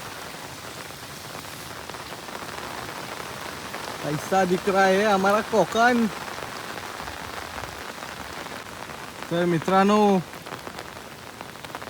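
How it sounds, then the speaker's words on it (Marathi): Steady rain falling on surfaces in the Konkan countryside among cashew trees, a continuous close hiss throughout, with someone talking over it in two bursts. "पाऊस पण खूप लागतोय"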